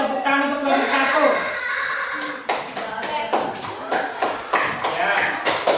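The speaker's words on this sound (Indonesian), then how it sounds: "Tepuk tangan untuk kelompok 1." A Grade 5 class in an Indonesian primary school gives a round of applause for a student group. Talk comes first, then a run of sharp, uneven hand claps close by, with some chuckling mixed in.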